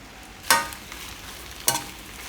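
A spatula scrapes twice through thecha chowmein in a hot pan. The two short, distinct stirring strokes come about a second apart, with a faint sizzle underneath and no talking.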